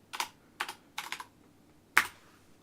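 Keys on a computer keyboard are struck in four short bursts, three close together and a sharper single tap after a pause, loud and close with no voices.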